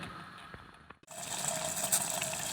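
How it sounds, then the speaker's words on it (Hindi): Water boiling in a pot over a stove flame, a quiet, steady bubbling wash that briefly cuts out before continuing. "ये हमारा जो पानी है बॉईल हो रहा है। अब हम इसकी फ्लेम बंद करेंगे"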